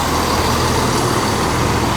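Steady, loud diesel engine rumble with broadband hiss as a Class 170 Turbostar diesel train arrives at Tamworth station, close by, continuous with no talk.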